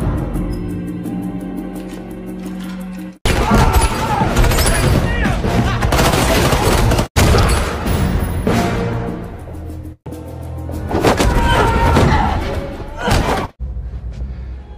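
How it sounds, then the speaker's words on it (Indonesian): Selina fires a gun at Falcon in a Batman film fight, rapid bursts of loud gunfire with heavy thumps and impacts in a dense, echoing action scene, broken by brief pauses. "Tembakan Selina terus diarahkan kepada Falcon."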